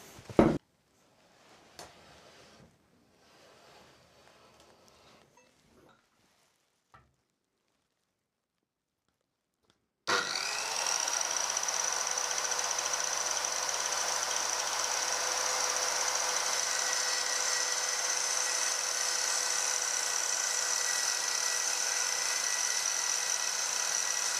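After a few faint knocks and a pause, an INGCO 185mm circular saw starts cutting wood and runs steadily with a loud, constant whine for the remaining stretch.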